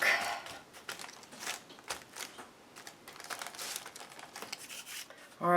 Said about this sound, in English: I'm just going to put a piece of deli paper in there and turn that upside down.